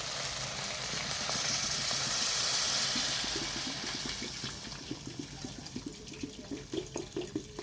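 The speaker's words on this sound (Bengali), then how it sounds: "এবার পানি দিয়ে দেবো" Water poured into a pan of frying spiced potato masala for a rohu fish curry gives a loud rushing hiss that settles into bubbling and popping simmer as it quietens.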